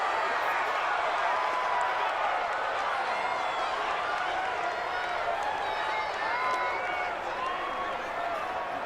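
A stadium crowd in Madden NFL 20, Bears versus Rams, roars in a steady, dense wash of cheering and noise ahead of a big third down, with a commentator talking over it throughout.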